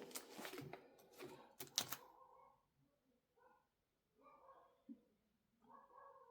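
Dogs bark indoors in a handful of short, muffled yips and woofs that sound somewhat distant, with rustling of photocards and plastic sleeves near the start.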